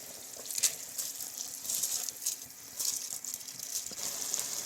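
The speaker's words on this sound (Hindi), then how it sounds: "पानी यहाँ पर बॉईल होना शुरू हो गया है, तो अब इसमें राइस डाल देने हैं।" Water boils in a pot for pulao, giving a steady bubbling hiss with soft, irregular pops at moderate volume and no one talking.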